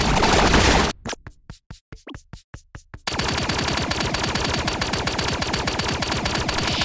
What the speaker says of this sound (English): Gosh, I hate the assault rifle.